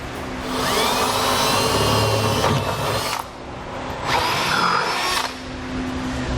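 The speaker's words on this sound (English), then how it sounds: "when we drill these pilot holes" A power drill bores pilot holes through the corrugated steel bed of a 2010 Ford F-series pickup for a gooseneck hitch. It whines loudly and steadily in two long bursts with a brief pause between, and nobody speaks.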